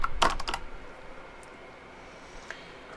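A word typed on a computer keyboard: a quick cluster of sharp, close key clicks at the start, then a couple of faint isolated taps against a quiet hiss.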